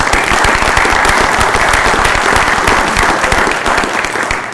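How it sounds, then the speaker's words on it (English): Audience applause fills the room at a nuclear energy supporters' rally in the Missouri House Lounge. It is a dense, steady burst of many clapping hands, loud and close throughout, easing off slightly at the end. "I want to give you an applause for coming."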